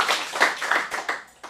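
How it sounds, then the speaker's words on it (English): Audience at an adult acting studio showcase in Phoenix clapping, a short burst of dense applause from a room of people that quickly thins into a few scattered claps. "Round of applause, please."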